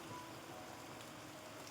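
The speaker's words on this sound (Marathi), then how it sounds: "बघा पाऊस मित्रांनो कसा वाढला या" Steady rain keeps falling and growing heavier in a village setting, a soft continuous hiss without breaks and with no voices over it.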